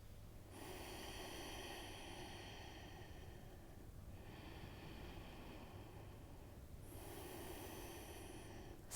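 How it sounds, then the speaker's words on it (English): Slow, deep breathing during a children's yoga session in a courtyard, three long faint breaths spaced several seconds apart over steady low background hum. "Big deep breath in."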